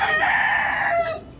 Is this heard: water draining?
no